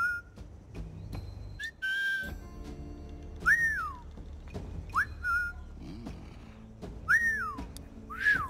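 A character in the video game Assassin's Creed IV Black Flag whistles in short, sharp two-note calls repeated several times, spaced among soft game clicks and background ambience, with no talking.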